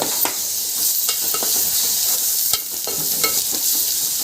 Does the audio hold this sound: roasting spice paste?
yes